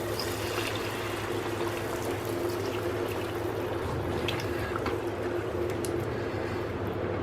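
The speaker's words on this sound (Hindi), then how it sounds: "2 कप गरम पानी डालेंगे।" Two cups of hot water poured into simmering curry gravy for malai kofta, a steady continuous splashing and bubbling wash close by with no voices.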